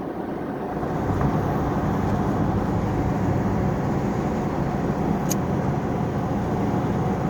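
A 1971 Dodge Challenger fitted with a 518/46RH transmission cruises as it slows to about 30, with a steady close engine and road drone filling the whole stretch and no talking.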